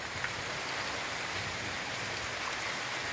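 Heavy rain pours down in a dense, steady hiss of countless drops striking surfaces, loud and unbroken throughout with no voices.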